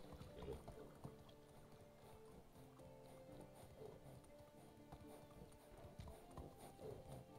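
Horse hooves clip-clopping in the video game Medieval Dynasty, a quiet steady trotting rhythm with faint ambient background.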